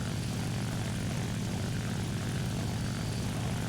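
A Lavochkin La-7 propeller fighter's piston engine drones in the War Thunder flight game, a loud, steady, unbroken roar with a rough buzzing texture and no voices.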